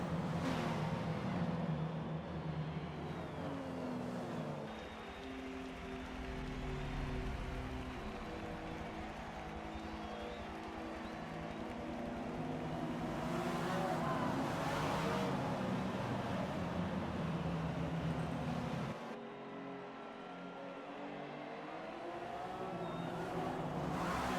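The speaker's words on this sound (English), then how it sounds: "as our damaged car is ducked into the pits" Race car engines in a racing video game drone and rev continuously, with cars passing near and far under a yellow-flag caution period, loud and sustained throughout.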